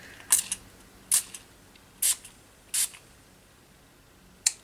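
Colour ink spray mists onto a journal page in five short, sharp spritzes spaced about a second apart, close and crisp over a quiet background.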